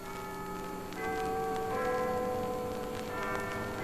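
Cathedral church bells ring out with sustained, overlapping tones, a second strike entering about a second in and more following, moderately distant and steady with no voices.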